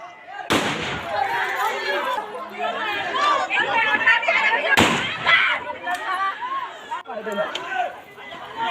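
Repeated sharp gunshots ring out over a chaotic scene, with agitated voices and crowd chatter continuing between the cracks.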